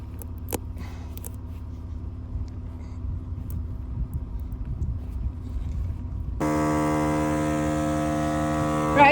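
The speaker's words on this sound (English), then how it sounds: "we're pumping air in from the compressor" Low engine-like rumble outdoors in a desert beside a Mitsubishi Montero Sport with a cut tire, then an air compressor starts up with a steady droning buzz and a strong tonal whine as it pumps air into the tire, with no talking.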